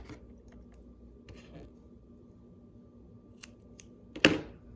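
Scissors snip a yarn tail on a knitted tank top's I-cord strap, a single sharp close cut near the end after a low steady background hum with faint handling clicks.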